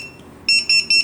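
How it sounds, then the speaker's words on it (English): A TD175 pager system unit being called gives three quick, loud electronic beeps in an even rhythm after a brief quiet start. "This is beep."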